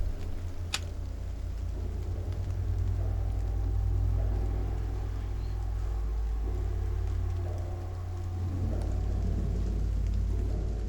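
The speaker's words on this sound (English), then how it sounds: "you can more clearly hear like the sound of the rain and stuff outside" Steady rain falling outside in the video game Silent Hill 2 Remake, a continuous dense wash with a low rumbling bed and one brief sharp tick, loud and unbroken throughout.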